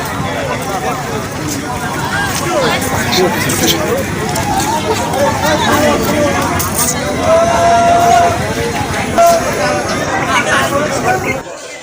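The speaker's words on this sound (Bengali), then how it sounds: "প্রচণ্ড ভিড় আজকের খেয়াঘাটে।" A dense crowd fills a village ferry landing on market day near a Sundarbans village bazaar, producing a steady, close hubbub of overlapping voices and chatter throughout.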